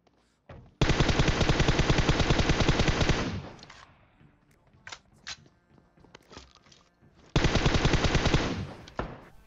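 Sustained automatic M4 rifle fire in PUBG Mobile: a long, rapid, loud burst of shots, then quieter scattered sounds and a few single shots, then another long burst of rapid fire, with no talking.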